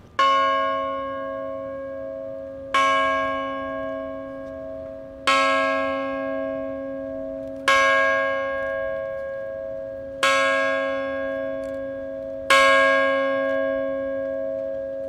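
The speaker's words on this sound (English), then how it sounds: "someone needs to ring the bell that stands in the courtyard" A large bell standing in an outdoor courtyard is struck six times at steady intervals of about two and a half seconds, each loud, ringing stroke decaying slowly into the next with no voices.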